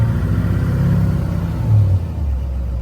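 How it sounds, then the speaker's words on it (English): A Duramax diesel pickup truck with a suspected turbo fault revs up close by, a loud, steady low rumble that swells briefly before dropping back to idle. "Kind of give her a rev here."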